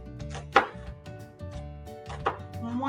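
A knife cuts slits into a halved, peeled onion on a board, giving a series of crisp, close chopping taps at an uneven rhythm.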